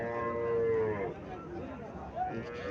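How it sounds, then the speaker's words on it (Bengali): A Haryana breed dairy cow at a cattle market lets out a close, drawn-out moo, followed by a shorter second low call. "হ্যাঁ, হরিয়ানা জাতের গাভি।"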